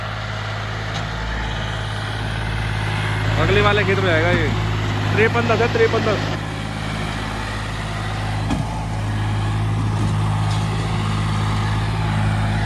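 John Deere tractor loaded with cow dung, its engine running at a steady idle close by, a constant low throb that carries on beneath someone talking for much of the stretch.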